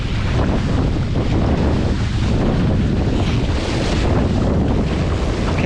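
A strong wind gust roars across the microphone aboard an RS600 dinghy during short-course training, with a loud, continuous buffeting rush and water noise underneath that lasts throughout, and nobody speaks.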